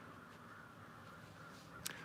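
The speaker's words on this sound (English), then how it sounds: "I got crows to the left of me." Crows caw faintly in the distance outdoors in a backyard, a few harsh calls rising over a quiet, steady ambient hum.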